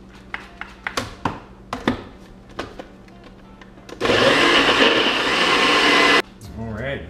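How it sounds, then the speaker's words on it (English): A NutriBullet blender whirs loudly for about two seconds while blending a runny protein smoothie, preceded by tapping and clinking as it is set up, then stops abruptly. "Let's blend this up in the NutriBullet"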